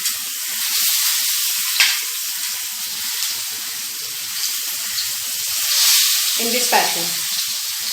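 Stuffed mackerel (bangda) packed with masala sizzles steadily in a hot pan, a bright continuous frying hiss with a few soft spatula scrapes and a brief spoken remark.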